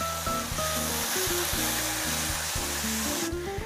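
Sambal terasi chili paste, ground with oil, sautés in a pan with a continuous sizzling hiss beneath background music; the hiss cuts out abruptly near the end.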